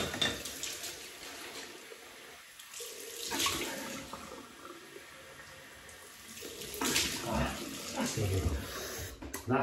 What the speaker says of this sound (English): Cold water.